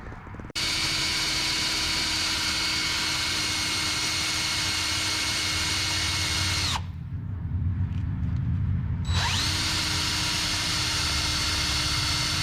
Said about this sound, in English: Just got to drill those next.